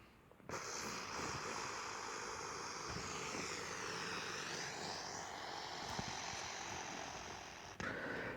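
An airplane passes with a steady broadband engine roar that swells slightly and holds for several seconds before cutting off, fairly quiet with no talk.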